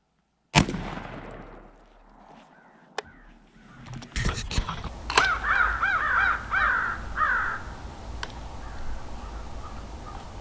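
Close, sharp reports from a Stoeger M3020 shotgun loaded with TSS 3-inch 7-shot, fired outdoors at a pattern target, followed by clattering and a burst of crow-like caws in the background.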